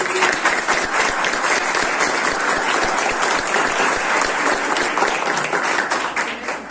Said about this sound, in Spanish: Un fuerte aplauso para estos niños.